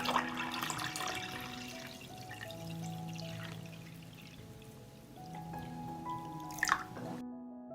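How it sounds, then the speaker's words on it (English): Water is poured into a cooking pot holding glass jars of blueberries set on a cloth. Close, gurgling pours with ringing, rising tones, interrupted by drips and short pauses and ending in a brief splash. "I will pour water up to the height of the lid."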